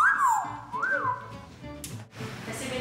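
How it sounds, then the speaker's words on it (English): A person whistles a sliding, wavering tune at close range over steady background noise in a large airport, with a brief clatter partway through. "Whistling the whole time I was here."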